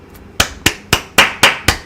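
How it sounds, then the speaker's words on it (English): A single person claps hands in a steady, emphatic Jason Garrett-style rhythm, six sharp close claps about a quarter second apart, with no talking. "Jason Garrett clap."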